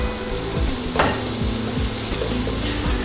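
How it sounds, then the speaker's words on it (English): Chopped onions sizzle steadily in hot olive oil in a pan, with a few scraping stirs of a utensil against the pan, close and continuous. "Let that saute for just a little while. While that is frying"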